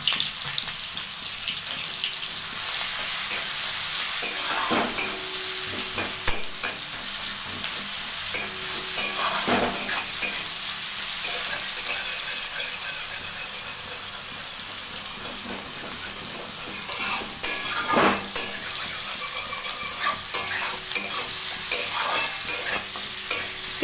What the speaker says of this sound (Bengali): এই তেলে আমি পেঁয়াজ কুচি দিয়ে দিলাম।